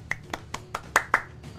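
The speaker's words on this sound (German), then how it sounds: "Applaus dafür." A single person claps six times in a steady, brisk rhythm, close and fairly quiet, with no other sound around it.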